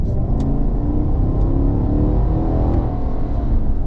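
A loud, close engine roars and builds in pitch as a new Cadillac Escalade SUV accelerates, with a rumbling low tone and no voices.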